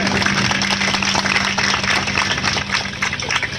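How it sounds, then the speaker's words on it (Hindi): An audience claps at an education camp gathering in a village, a moderate broadband patter of many hands under a steady low hum from a sound system. "मैं एक बार कहता हूँ कि आप एक बार प्लीज ताली बजा दीजिए"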